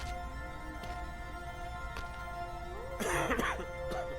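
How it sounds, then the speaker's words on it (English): A man gives a few harsh coughs and clears his throat, fairly close, against a steady humming background in the zombie-apocalypse game Quarantine Zone. "stop coughing on me"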